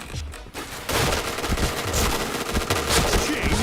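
Rapid bursts of gunfire from a shooting video game, loud and continuous after a brief quieter start, with automatic fire crackling throughout and a player's voice faintly audible in the mix.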